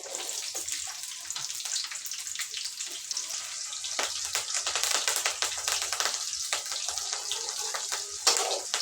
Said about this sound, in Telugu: ఇప్పుడైతే కొంచెం ఉల్లిగడ్డ వేగింది